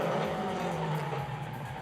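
Drift cars driven hard around a street track at an Indy drift league event, engines roaring loud and close with tire squeal and skidding running continuously.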